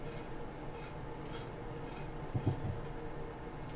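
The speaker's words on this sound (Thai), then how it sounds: "ไม่ต้องปอกให้ใช้สันมีดนะคะขูดนะคะ แบบนี้" Burdock root skin scraped with the back of a kitchen knife, a faint, steady series of rasping strokes against a quiet room hum.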